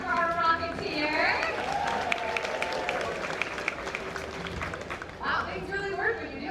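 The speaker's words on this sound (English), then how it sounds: "Big round of applause for our Rocketeer." Scattered applause and cheering rise from a crowd at a Disney's Animal Kingdom show, with voices including children talking and calling out over the clapping throughout.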